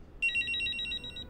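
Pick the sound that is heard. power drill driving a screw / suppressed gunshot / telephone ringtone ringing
telephone ringtone ringing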